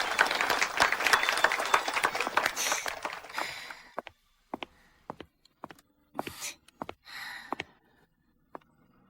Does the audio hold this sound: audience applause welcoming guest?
yes